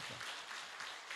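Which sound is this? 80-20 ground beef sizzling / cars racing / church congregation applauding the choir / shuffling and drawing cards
church congregation applauding the choir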